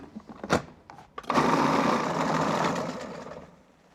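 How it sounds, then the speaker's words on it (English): A blender whirs through roasted red pepper with red pepper flakes, cumin, salt and pepper, a loud steady motor roar after a few short clicks and knocks, holding for about two seconds and then winding down. "And we're gonna blend this up."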